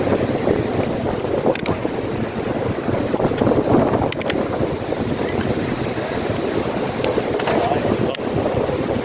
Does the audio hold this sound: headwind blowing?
yes